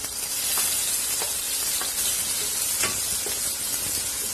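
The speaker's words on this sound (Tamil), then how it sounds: "இந்த வெங்காயத்தை இதோட வதக்கி விட்டுருங்க" Chopped medium onion sizzles in hot oil with cumin in a kadai, a steady frying hiss broken by occasional stirring scrapes, close and alone.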